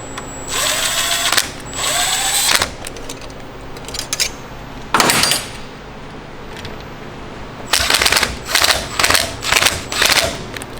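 A power tool snugs bolts on a C7 Z06 engine in short, loud, close bursts of whirring and rattling. Quiet gaps separate the first few, then a rapid run of pulses follows near the end.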